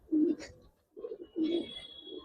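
Pigeons in an Old Dhaka loft give several low, throaty coos in short bursts, fairly close, with brief pauses between them and a faint higher chirp near the end.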